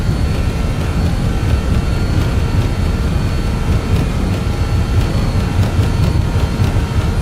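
A BAe 146 jet accelerating down the runway on its takeoff roll in Microsoft Flight Simulator 2020, a loud, steady low engine roar and broadband rumble holding constant throughout, with no voices.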